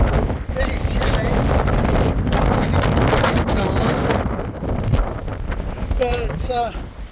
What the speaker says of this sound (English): these hurricane force winds we've got, and it's so loud when a blast of air comes and hits the side of the crater